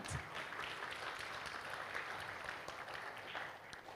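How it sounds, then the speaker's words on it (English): Applause from a seminar audience opening a session on Indonesia's blue economy roadmap, a steady but fairly faint wash of clapping that holds evenly for the whole stretch without voices. "may we have a very big round of applause to kickstart today's event"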